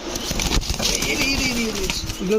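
A male Rajshahi maxi pigeon coos in low, rolling murmurs close by, heard over a busy background of faint voices and other noise at a pigeon market.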